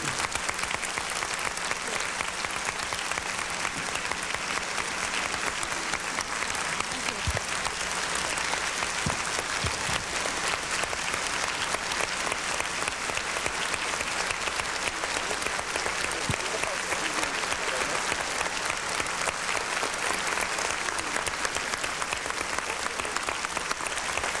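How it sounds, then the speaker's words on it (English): Large banquet crowd at a science fiction convention keeps up long, loud applause for Andre Norton, a thick continuous clapping roar with a few faint voices and brief knocks beneath it. "A wonderful applause for a woman who deserves it."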